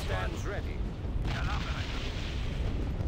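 Heavy weapons fire in the Generals mod AOTR (Star Wars) pounds as a dense, continuous low rumble of blasts, loud and steady throughout, with voices talking over it.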